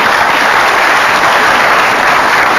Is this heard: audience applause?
yes